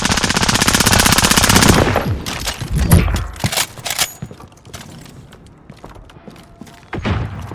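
Loud, close machine-gun fire in a shooter video game, a sustained rapid burst for about two seconds, then scattered single shots, thuds and mechanical clicks, with another burst at the end.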